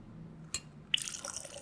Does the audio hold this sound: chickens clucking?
no